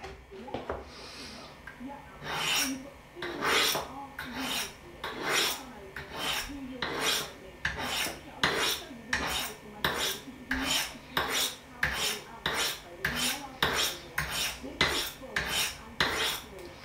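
A knife blade is drawn across the fine ceramic sticks of a Lansky Turn Box sharpener in about fifteen steady, evenly spaced rasping strokes, each one close and crisp, at a 20-degree angle.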